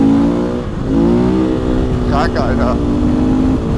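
A motorcycle accelerates at full throttle in fourth gear, a loud rising engine drone with a steady climbing pitch close to the rider, while people talk briefly over it.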